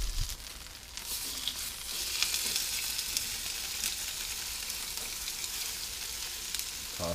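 Shark fillets fry in butter with coriander in a hot pan, giving a steady, bright crackling sizzle that holds evenly throughout without any voices.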